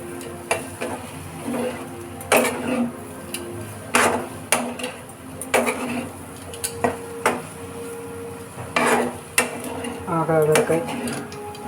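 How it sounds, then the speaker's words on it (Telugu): Chili powder being stirred into agagarakay pieces frying with potato and onion in a pan, a sizzle under repeated clanking scrapes and knocks of a ladle against metal, close and irregular, with no speech. "కొంచెం కారం ఇంకొకసారి కలుపుకుందాం."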